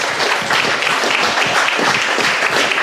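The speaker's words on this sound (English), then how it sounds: "A round of applause to our beautiful MCs." Sustained round of applause from a wedding reception crowd honoring the MCs, dense clapping filling the room steadily and loudly for the whole stretch, with no voices over it.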